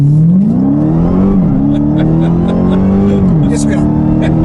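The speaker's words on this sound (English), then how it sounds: "We are now in the good old Hellcat." A Dodge Challenger Hellcat engine rumbling and revving while driving, heard from inside the car as a loud steady drone with rising and falling pitch as it speeds up, with people talking over it.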